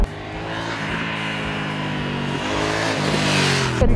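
A 2018 Honda Africa Twin Adventure Sports (CRF1000) motorcycle engine revs and pulls hard, its pitch rising and falling steadily, heard up close with no talking.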